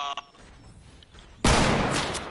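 A hunting rifle in a video game fires as a sudden, loud, sharp blast that rings out after a quiet stretch, with a brief trailing rumble.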